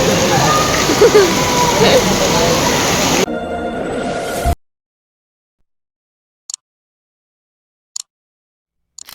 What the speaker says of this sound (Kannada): ಮಳೆ ನೋಡಿ ಮೈಸೂರು ತುಂಬ ಮಳೆ ಬೀಳ್ತಿದೆ.